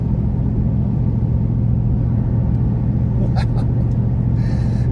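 A 2023 Ford F-150 crew cab 4x4 with the 5.0 engine gives a steady, loud, deep engine rumble that holds evenly from start to finish, recorded close by.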